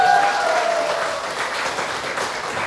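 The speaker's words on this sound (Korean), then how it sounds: "박수!" An audience at a Korean healthcare-market business seminar breaks into loud, sustained applause, a dense wash of clapping that holds steady and eases slightly toward the end.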